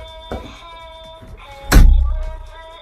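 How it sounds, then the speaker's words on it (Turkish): A door is opened indoors with a sudden loud thunk partway through, preceded by a faint knock and fading quickly in a low rumble. "kapıyı aç"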